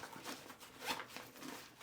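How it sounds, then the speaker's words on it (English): A small zipper on a Vanquest Sticky Cube Medium gear pack is worked all the way around to open its expansion section, giving a close, scratchy run of zipping with a brief louder pull in the middle. "Right over here, there's this small zipper."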